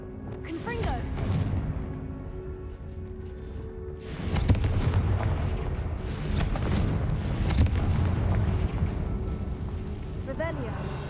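Confringo fire-spell explosions in Hogwarts Legacy during the Feldcroft catacomb quest go off as heavy booming bursts over a constant low rumble, with the loudest blasts coming near the middle and again later on.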